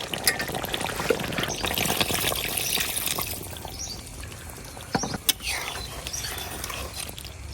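Water poured into a pan of braised chicken with black cumin gives a broad splashing, trickling wash with a few sharp clinks, moderately loud and close, easing toward the end.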